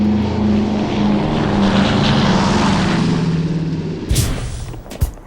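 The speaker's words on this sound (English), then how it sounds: "You get to go and jump in this airplane that you love, and it sounds awesome." A loud, steady drone of a propeller airplane engine close by, fading slightly before a couple of sharp knocks near the end.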